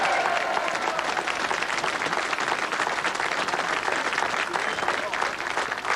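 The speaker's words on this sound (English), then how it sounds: "Gets the biggest cheer of the whole day" A racecourse crowd at the St Leger presentation at Ayr in 1989 cheers and applauds continuously, a dense wash of clapping under a commentator's voice.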